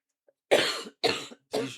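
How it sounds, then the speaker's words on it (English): Three sharp coughs in quick succession, close and loud, with short pauses between them. "about to cough."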